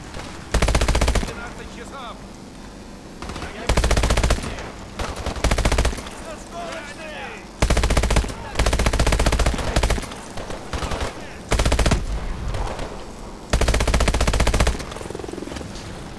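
Gunfire in Call of Duty: Advanced Warfare, loud bursts of rapid automatic fire repeating in short bursts with quieter gaps between them, close and dominant.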